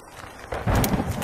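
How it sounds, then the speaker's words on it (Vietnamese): A sudden downpour with a deep thunder rumble in an animated folk-tale cartoon, starting quietly and then swelling into broad rushing noise and a low rolling boom in the second half. "trời đất gì mà lạ thật, mưa không báo trước"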